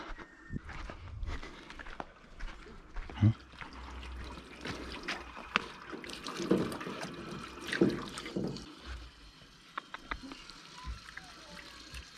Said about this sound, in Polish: Idę umyć mięsko.